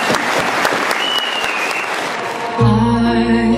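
A crowd claps loudly for a couple of seconds for a performing group, then music starts up over the fading applause.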